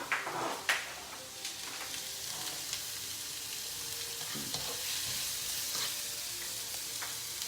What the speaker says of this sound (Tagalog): Ginigisa na ni Che ang sibuyas at saka ang luya.